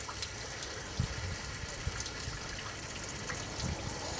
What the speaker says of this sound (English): It's just trickling, which means that is blocked.